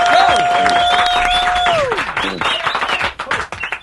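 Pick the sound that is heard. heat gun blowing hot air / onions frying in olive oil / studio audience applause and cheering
studio audience applause and cheering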